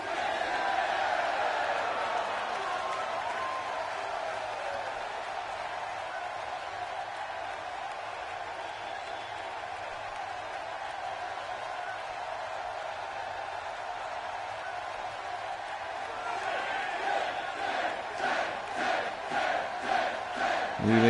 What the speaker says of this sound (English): As everybody's chanting 10